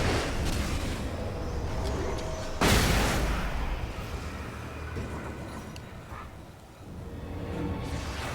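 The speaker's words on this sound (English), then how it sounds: "Flashbang, flashbang." A flashbang goes off in the video game Alan Wake 2, one sharp, loud burst a few seconds in against a steady rumbling game backdrop that eases off before swelling again near the end.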